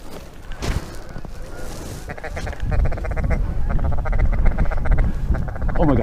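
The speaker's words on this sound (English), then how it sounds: "oh my god, all these geese" A flock of geese flying over a Wisconsin waterfowl hunt calls in dense, repeated honks that grow louder and more continuous after the first couple of seconds, while hunters talk excitedly nearby.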